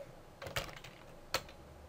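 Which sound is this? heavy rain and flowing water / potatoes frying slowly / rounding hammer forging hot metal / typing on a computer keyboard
typing on a computer keyboard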